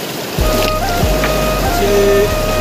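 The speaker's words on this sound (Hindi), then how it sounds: "बड़ा बड़ा पत्थर पानी को खेल के लेके आ रहा है, गड़म गुड़म कर रहा" A fast river current tumbles big stones along its bed, giving steady rushing water with repeated deep thuds about every half second, loud and close, alone without talk.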